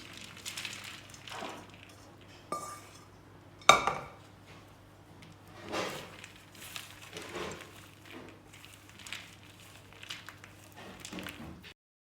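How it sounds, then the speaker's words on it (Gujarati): A date and nut mixture stirred in a pan, with scraping and clinking of a utensil against metal, a few sharper knocks and soft squishing between quieter pauses. "હવે પછી આખું મિક્સ કરી નાખવાનું"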